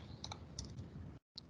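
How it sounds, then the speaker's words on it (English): Keys clatter on a computer keyboard while entering a line of code, a quick burst of soft clicks over low room noise, then a short silence and a few more taps. "So here I'll type task list"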